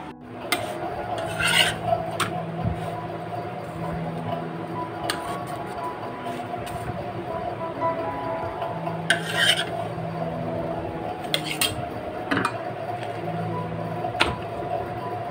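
Atta dough for roti is kneaded by hand, making soft rubbing and squishing with occasional sharper taps and clicks, close up over a constant low hum, with no talking.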